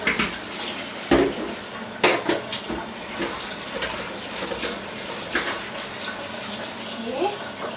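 Kitchen washing at a sink with running water, dishes and utensils clinking in several sharp knocks over a steady water hiss, close by, while cooking Indian food.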